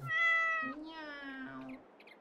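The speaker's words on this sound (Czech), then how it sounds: "A tadyhle mám mňaukací kočku." A meowing cat in a video game, a drawn-out tonal meow followed by a second, lower and longer meow, clear and close with no talking over it.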